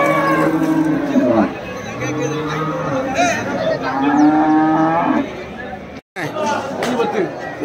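Ongole cattle low and moo repeatedly at a busy cow market, with long deep calls up close and crowd chatter and talking all around.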